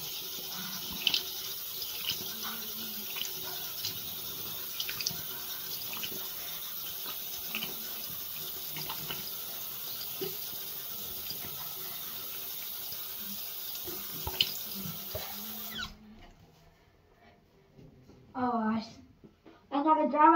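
Bathroom tap runs steadily at a sink while a face is washed off after makeup removal, a constant close splashing hiss with small splashes, then it stops and brief talking follows.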